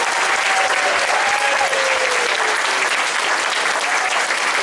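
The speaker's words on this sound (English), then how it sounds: "Let's give these little guys a round of applause for being here all morning." An audience applauds sixth-grade orchestra players at a school music festival, giving a steady, even round of clapping that holds at a constant level throughout.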